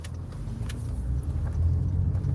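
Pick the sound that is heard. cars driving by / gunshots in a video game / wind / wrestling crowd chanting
cars driving by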